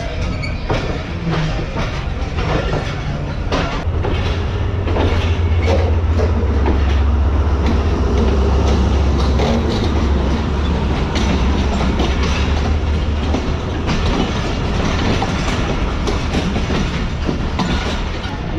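The Allama Iqbal Express, a passenger train running between Sialkot and Karachi, rolls past near Rohri Junction with a loud, continuous rumble, rhythmic clickety-clack of wheels over rail joints and occasional squeals throughout.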